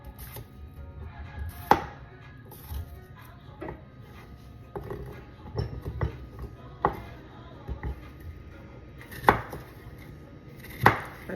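Knife chopping green beans on a cutting board, scattered sharp taps at an uneven pace with several louder knocks, close by and otherwise quiet.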